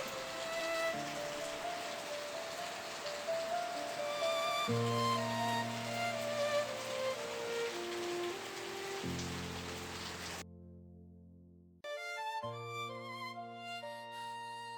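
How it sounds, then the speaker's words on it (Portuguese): Rain falls steadily in a city, a continuous hiss of drops on surfaces beneath a soft layer of music that drops out briefly near the end. "A chuva aqui tem um som diferente da chuva na casa da minha mãe."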